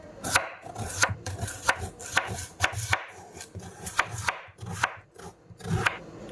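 Potatoes sliced into rounds with a knife on a cutting board, giving a steady run of sharp, close chopping taps repeated about once or twice a second.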